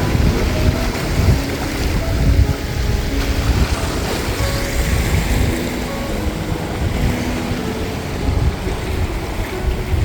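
Loud, steady roar of Pacific Ocean surf crashing on rocks off a British Columbia island, with heavy low rumble and wind noise, waves surging and breaking continuously close by, no voices.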